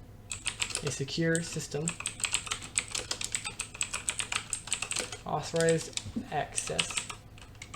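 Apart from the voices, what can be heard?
computer keyboard typing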